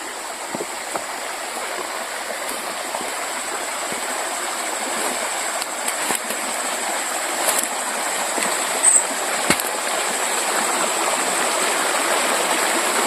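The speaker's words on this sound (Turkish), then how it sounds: "Daha akan su pis arkadaşlar." A village stream flows steadily nearby with a continuous rushing, hissing wash of water, punctuated by a few faint knocks and clicks.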